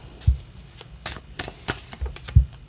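Tarot cards being shuffled by hand, a series of soft papery riffles and taps with a few sharper slaps, close and fairly quiet, with no voices.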